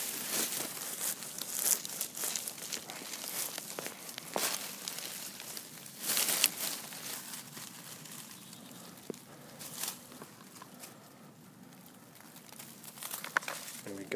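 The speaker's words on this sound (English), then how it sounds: "So I'm just going to cut a big circle around these." Soil around a cluster of crocus plants being cut in a circle with a garden tool during transplanting into a sunny spot, giving repeated close crunching, tearing and crinkling scrapes in irregular bursts with short pauses.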